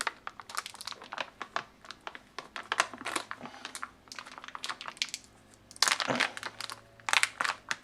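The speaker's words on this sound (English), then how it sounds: "It's quite stubborn packaging. Use my teeth to get it open." Stubborn plastic packaging on a Japanese JSDF military ration rice pouch is torn open with the teeth: close, loud bursts of crinkling and ripping come in quick irregular clusters, with no talking.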